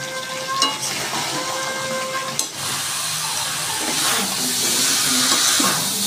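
Chicken korma masala with whole green chillies sizzles and fries in a pan. A steady loud hiss is broken by a few utensil clinks and stirring scrapes, and it swells slightly toward the end.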